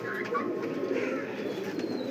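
Pigeons cooing at a fancy pigeon farm with Pakistani high flyers and racing pigeons, a steady low murmur of overlapping coos from many birds close by, continuous throughout with faint chirps above.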